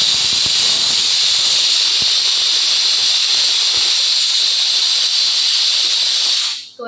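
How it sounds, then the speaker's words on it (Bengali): Pressure cooker with meat inside releasing steam in a loud, steady hiss that runs unbroken for about seven seconds before cutting off abruptly at the end. "মাংসটা প্রেশার কুকারে দিয়েছি আমি।"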